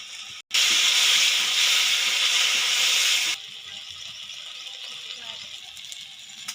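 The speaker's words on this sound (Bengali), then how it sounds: "তো তো এই মশলাটাকে ভালোভাবে কষাবো যতক্ষণ না" Masala paste with tomato frying in oil, a loud steady hiss after a brief cutout, then dropping to a softer sizzle as a voice talks over it.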